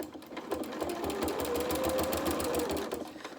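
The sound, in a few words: sewing machine stitching fabric advent calendar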